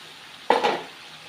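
A single quick scrape of a spoon through vegetables frying with spices for a dried fish curry, a short burst over a quiet low sizzle.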